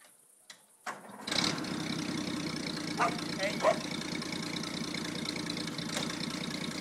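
A Land Rover Series III with the 2.6 six-cylinder engine starts inside a barn, cranking briefly before catching and settling into a steady, rumbling idle, with faint voices in the background.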